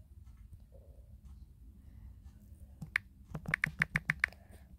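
Fairly quiet, close keystrokes on a computer keyboard, a single tap followed by a quick burst of about seven crisp clicks near the end, over low room background.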